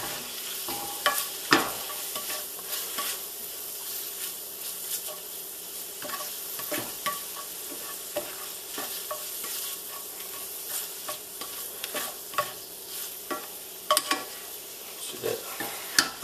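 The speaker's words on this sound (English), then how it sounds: "Continue to stir." Lobster sizzles in butter in a pan while a utensil stirs it, giving a steady close hiss punctuated by repeated scraping and clinking strokes against the pan.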